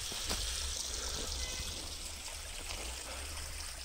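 A small stream flows through the snowy Black Forest with a soft, continuous trickle and gentle babble, steady and close, with no one talking.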